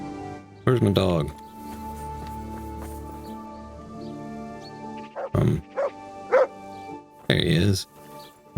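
A dog barks in the video game Kingdom Come: Deliverance, giving one short burst of barks near the start and a few more later, over a steady backdrop of game music and ambience.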